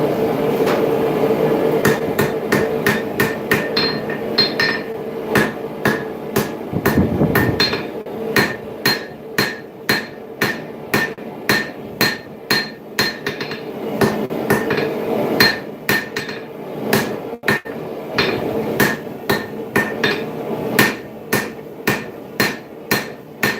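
Hammer blows ring out on hot steel as a full-tang hunting knife blade is drawn out to a taper and forge welded, a long run of loud, sharp, evenly spaced strikes close by.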